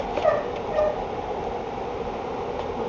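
Puppies whimper and give short high yips, with two brief cries near the start over a steady low indoor background hum.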